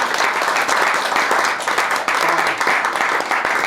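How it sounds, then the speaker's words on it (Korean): Forum audience at a Jeju carbon-free island session bursts into loud, close applause, a thick, continuous roll of many hands clapping with brief dips in intensity. "큰 박수를 좀 부탁드립니다."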